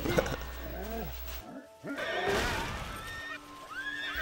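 Several horses in the online role-playing game TERA Online neigh and whinny in quick succession, with repeated rising and falling calls and some clip-clop hoofbeats close by, with no talk.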